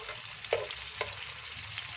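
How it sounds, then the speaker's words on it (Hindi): Okra pakoras frying and being turned in oil: a continuous sizzle with two light utensil knocks. "उल्टा सीधा करके इनको सेक लेना है, अच्छे से फ्राई कर लेना है।"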